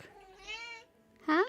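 A house cat meows twice up close indoors near a desk, first a drawn-out rising meow and then a shorter, sharper one after a brief pause.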